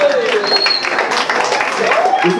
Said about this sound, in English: Now you must clap for this person too.